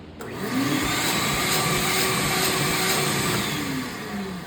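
A bagged vacuum cleaner, stored in a shed or garage, switches on for a suction test, its motor spinning up quickly into a loud, steady whine that holds close and constant, then eases slightly at the end.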